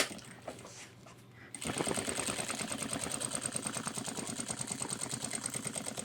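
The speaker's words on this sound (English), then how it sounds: "Be sure to double stitch again." A sewing machine double stitches a homemade 30L ultralight hiking backpack, starting after a brief quiet moment and then running as a steady, rapid, close-up stitching rattle.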